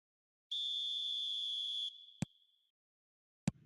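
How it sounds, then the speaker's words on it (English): A referee's whistle starts the second half in an eFootball video game: one long, steady, shrill tone that tails off, followed by two sharp clicks. "There's the whistle then to start the second half"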